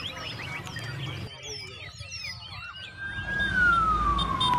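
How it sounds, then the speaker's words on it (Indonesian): An ambulance siren sounds in the distance, a rising and falling electronic wail that comes through after a spell of scattered chirps and background noise and grows louder toward the end. "Sirine ambulans atau semacamnya adalah bunyi-bunyian yang sangat cepat ditangkap oleh murai batu nih guys."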